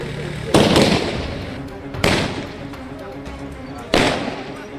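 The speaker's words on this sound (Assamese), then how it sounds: "ৰাজপথত ফটকা ফুটাই আবতৰীয়া দীপাৱলী পালন" Firecrackers burst on a city road in Jorhat during a street celebration, three sharp loud bangs spaced about one and a half seconds apart, each trailing into a crackling decay over a murmur of crowd noise.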